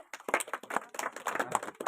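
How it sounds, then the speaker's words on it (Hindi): A seated audience at an outdoor job card and e-Shram card camp claps steadily to welcome the municipal commissioner, a dense patter of many hands at moderate volume with no pauses. "आयुक्त महोदय नगर निगम बारड़ साहब, उनके लिए जोरदार तालियों से उनका स्वागत करें"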